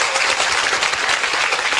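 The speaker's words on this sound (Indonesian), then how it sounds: "saya mohon Anda semua tepuk tangan ya" Audience at a talk breaking into applause, a dense, even wash of many hands clapping throughout, loud and steady with no speech over it.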